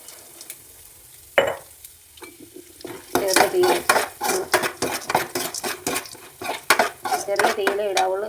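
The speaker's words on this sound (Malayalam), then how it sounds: "പരിപ്പൊന്ന് വറുത്തെടുക്കാൻ കുറച്ച് നെയ്യ് ഒഴിച്ചു കൊടുക്കാം" Dal fries in hot ghee in a pan over a low flame, with a soft sizzle under repeated metallic scraping and clinking of a spoon stirring against the pan.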